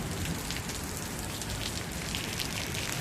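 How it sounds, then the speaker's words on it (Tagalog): A sudden heavy downpour in Los Baños, Laguna, heard as a steady, dense hiss of rain striking surfaces, even and unbroken, captured at moderate distance with no voices. "Kasi nga umuulan, mababasa tayo."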